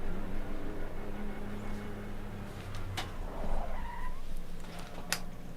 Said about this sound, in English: I'm just driving to the end of the pit lane to make sure it registers that I'm in the car.